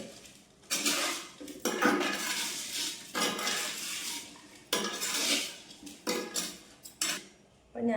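Spoon stirring and scraping pickle ingredients, chilli powder, turmeric and salt, in a dish, in repeated clattering bursts of metal on the bowl with short pauses between strokes.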